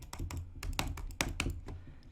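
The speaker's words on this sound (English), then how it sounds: "I'm just gonna start typing. You can definitely hear that." Rapid clattering keystrokes on a computer keyboard, close and fairly loud, in uneven bursts of taps with a few heavier clicks, no voices.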